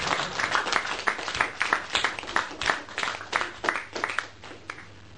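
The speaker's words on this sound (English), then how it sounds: "Let's give another round of applause to all our excellent table talk speakers." An audience applauds table talk speakers at a speaking club meeting, a steady, dense round of clapping from a roomful of people that holds for several seconds without voices.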